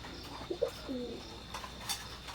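Imported-bloodline Teddy pigeons, a male and female pair, make soft, faint coos early on, followed by a few quieter calls over a constant background hiss.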